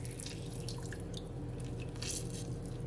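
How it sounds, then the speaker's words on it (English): Lemon or lime juice squeezed by hand through a strainer while making a carrot, celery and peach juice, with a steady wet dripping and squishing that runs close and continuous through the whole stretch. "I'm just gonna squeeze it to my strainer because you don't want all those bits to get into your juice"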